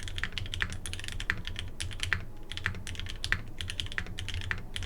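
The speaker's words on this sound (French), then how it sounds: "on pourrait croire que le son du clavier est moins bien" Rapid typing on a custom enthusiast mechanical keyboard, a dense stream of crisp clicking keystrokes in quick irregular rhythm, close and clear with no voices.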